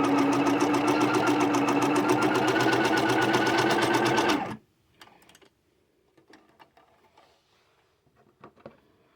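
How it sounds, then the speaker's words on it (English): A sewing machine runs a zigzag stitch in a loud, fast, steady whirring rattle for about four seconds, then stops abruptly, leaving faint clicks and handling noises. "I'll show you a zigzag stitch."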